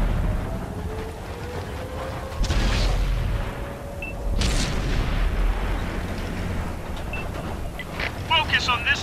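Tank cannon fire in World of Tanks on PS4, two heavy booming shots spaced a couple of seconds apart with rumbling low engine noise between and a crew voice talking.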